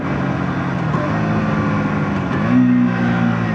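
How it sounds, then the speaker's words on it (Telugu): A KTM RC 160 motorcycle accelerates hard, its engine note loud, close and continuous, rising in pitch and climbing again after a brief shift near the end. "చాలా క్లీన్గా యాక్సలరేట్ అవుతుందండి, మొత్తం టాప్ స్పీడ్ వరకు కూడా."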